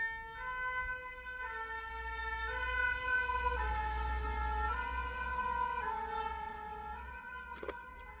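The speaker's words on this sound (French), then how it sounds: "C'est une ambulance pompier qui venait de passer." A fire brigade ambulance siren sounds as the vehicle passes along a street on a hot day, its steady two-tone wail swelling and holding loud and fairly near over road rumble before a brief clatter near the end.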